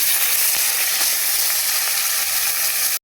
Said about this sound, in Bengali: এই মাছগুলোকে ভেজে নিই তাড়াতাড়ি